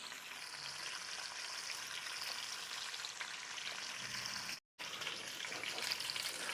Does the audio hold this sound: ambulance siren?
no